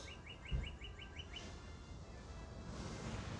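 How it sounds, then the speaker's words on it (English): Outdoors, a bird gives a quick series of about seven rising chirps, faint against steady wind noise, then falls silent as the breezy rumble continues. "You clearly can hear that bird out here,"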